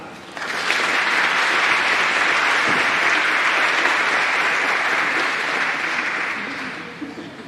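Audience at a community college symposium applauding to welcome a speaker, a loud sustained round of clapping that swells quickly, holds steady and tapers off near the end.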